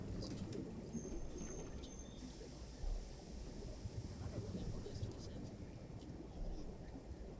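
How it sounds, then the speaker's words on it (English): A bird flying past a submarine periscope in Silent Hunter III gives a faint, brief call over constant wash of sea and engine noise, with a voice speaking at times. "A bird just flew past the periscope and it scared me."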